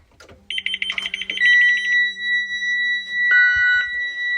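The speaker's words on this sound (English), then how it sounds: "so I will be able to hear my emergency exit alarms" Emergency exit alarm on a Thomas Saf-T-Liner EFX school bus sounding with the key in accessory position: loud, steady electronic tones that overlap and shift pitch, close by and without talk.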